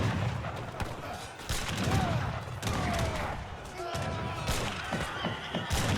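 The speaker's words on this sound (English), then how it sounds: "Like the bullets are just doing work, shredding down all these cav units." Rapid volleys of gunfire from a video game battle between Papal cavalry, lancers and pikemen, crackling densely and near-continuously with thumping impacts, while someone commentates throughout.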